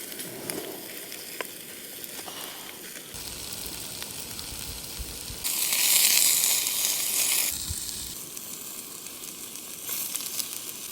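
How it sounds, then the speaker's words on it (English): Freshly caught mackerel simmers in a pan during boat camping, giving a steady close sizzle and hiss that surges louder for a couple of seconds midway before easing back, with no voices. "I've got the first lot of mackerel just simmering away"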